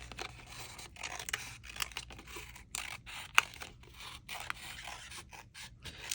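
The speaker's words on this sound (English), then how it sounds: "we are going to fold it again in half, cut again in the center" Scissors snip through folded paper for a paper flower, a run of quiet, close crisp cuts and rustles that repeat at an uneven pace with no talking.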